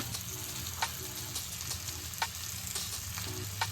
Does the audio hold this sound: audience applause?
no